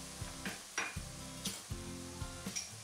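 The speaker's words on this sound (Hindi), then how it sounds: "अब हम इसमें अदरक लहसुन का पेस्ट डालेंगे 1 बड़ा चम्मच और इसे 1 मिनट तक भून लेंगे" A tablespoon of ginger garlic paste fries in a pan for a Bihari chicken curry, a low steady sizzle punctuated by a few spoon scrapes and taps against the metal, close and fairly quiet, no voices.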